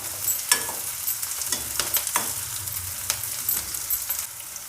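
Onion layers fry and sizzle in a kadhai while a steel ladle stirs them, with scraping strokes and clinks over a steady hiss, close and alone.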